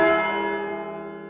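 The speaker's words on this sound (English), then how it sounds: "this is the first Sunday on which the bells have been rung for 7 months after extensive restoration" Church bells ringing at St Mary's, Walton-on-Thames, newly restored with heritage bells, a single loud bell strike sounding close and bright, then its rich tone slowly fading away.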